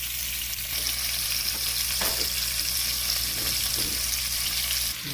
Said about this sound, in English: we want a good fry. Yeah. So we'll just turn them over in a few minutes.